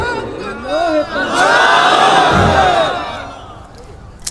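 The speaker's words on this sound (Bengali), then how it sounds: "খুব জোরে একটা তাকবীর দেন, সর্বশক্তি দিয়ে" A large crowd roars together in a loud, sustained collective shout, the takbir rising to a peak in the middle and then fading, with no single voice standing out.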